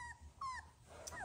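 Three- to four-week-old Doodle puppies give thin, close whimpers and squeaky yips in a quick, uneven cluster.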